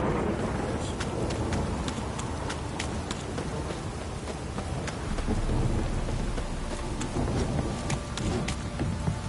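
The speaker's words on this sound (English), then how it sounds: "Proper downpour this is." Heavy rain pours down in The Witcher 3 while thunder rumbles low and lingers, with sharp crackling drips and a steady roar of downpour throughout.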